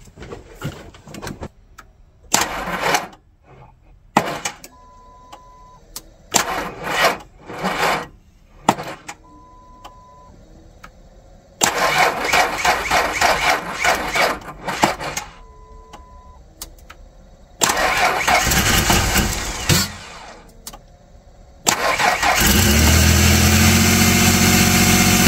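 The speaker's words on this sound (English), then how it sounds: "Time to go turn the ignition and let me know if she starts." Motorcycle engine cranked with a Noco jump starter: several separate bursts of churning cranking noise with pauses between tries, ending in a steady running engine sound at the close.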